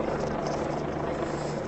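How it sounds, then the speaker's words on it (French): A helicopter flies low overhead above a tense street protest in Paris, its loud steady rotor roar filling the whole clip with some crowd noise beneath. "le bruit assourdissant de cet hélicoptère qui survole les lieux où on se trouve actuellement"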